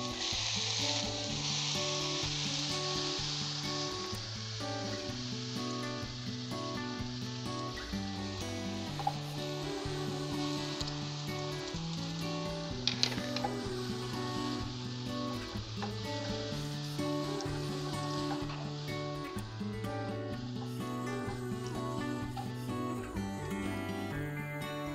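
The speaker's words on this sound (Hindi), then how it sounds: "ये मैंने देसी घी डाला है और अब मैं इसमें गाजर किसी हुई भूनूंगी।" Grated carrots fry in desi ghee for carrot halwa, a soft steady sizzle under loud continuous background music that dominates throughout.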